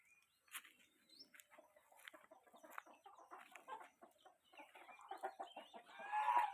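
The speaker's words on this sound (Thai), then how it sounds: "ภายในก็มีการเลี้ยงไก่" Chickens on a self-sufficient Thai garden homestead with a chicken coop cluck and chirp in a busy flock, irregular close clucks building louder toward the end.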